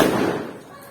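A single loud firecracker bang at an outdoor fireworks display, a sharp close burst that quickly decays into a fading rumble.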